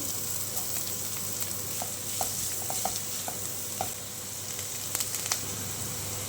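Onion frying in a pan over garlic and ginger, cooked for veg momo filling: a steady, dense sizzle with faint crackles and a few light pops, close and even throughout, with no voices.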